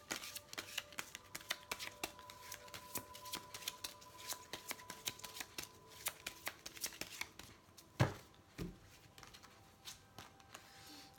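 Oracle cards shuffled during a tarot-style reading, a quiet, close run of rapid riffling flicks lasting several seconds, ending in a couple of soft taps as the deck settles.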